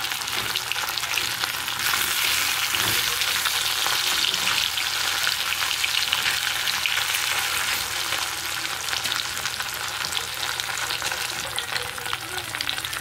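Parshe fish frying in oil, a strong continuous sizzle and crackle from the pan, steady and close, with no talking.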